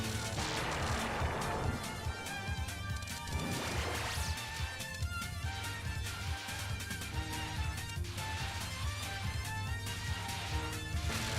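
Bomb spell attacks in the Touhou 6 shoot-'em-up, a dense wash of crashing, blasting effects layered over continuous game music, sustained and loud throughout with no talking.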